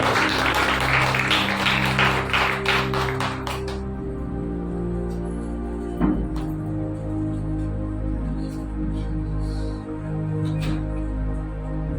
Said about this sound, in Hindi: क्यों ना क्वायर के लिए एक अच्छी ताली हो जाए